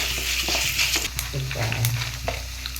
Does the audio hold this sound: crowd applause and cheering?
no